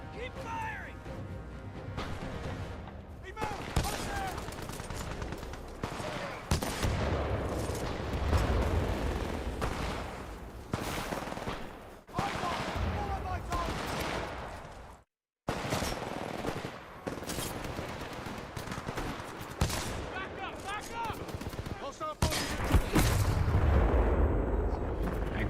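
Rapid bursts of gunfire and heavy blasts from the factory-building game Dyson Sphere Program, loud and dense, with a brief dropout midway and a voice talking over the shooting.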